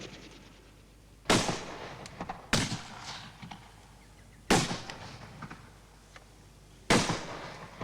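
Four sharp gunshots fired at spaced intervals, each a loud abrupt crack with a short decaying tail, over a quiet background with faint rustling between shots.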